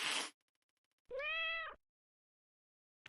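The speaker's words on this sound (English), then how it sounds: "Did they actually model a cat for this?" A cat in the video game Black Soul gives a single clear meow lasting under a second, after a brief burst of noise and before a quiet pause.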